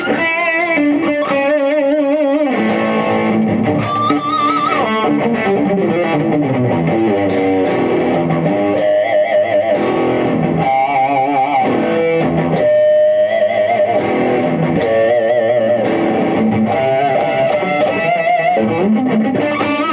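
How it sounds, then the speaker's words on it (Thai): An SQOE T250 electric guitar played through an amp's own distortion, a continuous run of loud, gritty riffs and notes, close and steady throughout with no talking. "ผมเล่นเสียงแตกหน้าตู้ผมขี้เกียจไปกดเอฟเฟคนะครับ"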